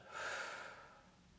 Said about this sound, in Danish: Og puster helt ud.